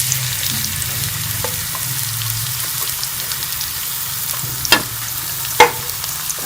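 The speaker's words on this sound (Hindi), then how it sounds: "इसमें चॉप किया हुआ प्याज डाल देंगे।" Chopped onion frying in ghee in a pan, a steady close sizzle with a few sharp pops and clinks of stirring near the end, no voices.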